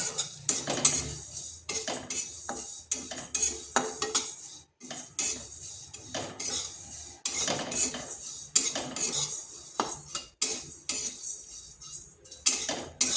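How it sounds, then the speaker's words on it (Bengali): Metal utensils scrape and clink against a pan in irregular bursts as cumin, ajwain and mustard seeds are dry-roasted and tossed over heat, with no voices. "আর জিরা গোটা জিরা জোয়ান আর সরষা এগুলোকে একটু ভেজে করে গুঁড়ো করে নেবো"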